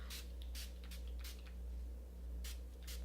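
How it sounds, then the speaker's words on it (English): Tarte Rainforest of the Sea face spray misted from a pump bottle, several short hissing spritzes in quick succession, close and fairly quiet over a steady background hum. "I'm going to start off with Tarte's Rainforest of the Sea spray."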